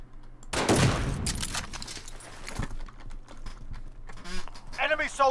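Video game gunfire crackles in bursts, loud and close, with a heavy blast early on, while people talk over the shooting.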